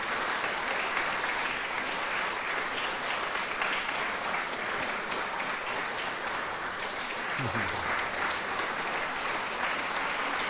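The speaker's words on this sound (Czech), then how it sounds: "Teď nám pověz, jsi jaký potlesk máš, je, viď?" A studio audience applauds a young singer during a folk bagpipe band's appearance on Czech radio in Plzeň, with a sustained even wash of clapping and a faint low voice briefly underneath.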